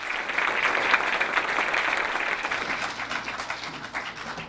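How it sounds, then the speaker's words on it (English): An audience at a university research awards gala claps steadily for several seconds, a dense, even wash of applause that gradually thins and fades. "I see I have a cheering crowd here."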